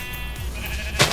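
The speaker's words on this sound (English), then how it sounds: "I hear goats." Goats bleat in the video game Minecraft, a short nasal call riding over steady game background noise, followed by a brief louder burst near the end.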